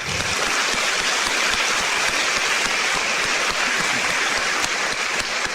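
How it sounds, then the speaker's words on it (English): Applause from a banquet audience at a chamber of commerce dinner, a dense, loud, continuous wash of clapping that holds evenly throughout with no voices on top. "So give yourself a round of applause."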